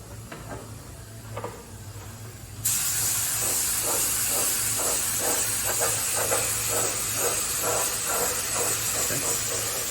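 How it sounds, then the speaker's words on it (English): After a quieter start with soft thumps, a loud hissing spray of pre-activator solution for chrome plating kicks in and continues steadily, with a faint rhythmic pulsing underneath. "Spray your pre-activator."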